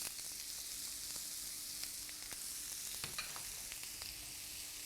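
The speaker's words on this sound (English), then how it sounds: "Another little bit of oil, and now we're going to sweat off our onions." Onions sweat in a little oil in a pan for a chicken and cranberry tajine, a soft, steady sizzle with faint crackles and occasional stirring clicks, quiet and close with no talking.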